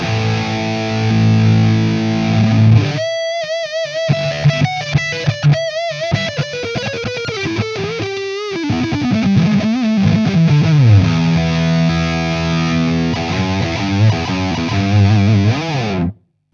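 An electric guitar plays heavily distorted metal riffs through a 1993 Mesa Boogie Dual Rectifier Revision F amp, with sustained chords, palm-muted chugs and a sliding bend, loud and without talk.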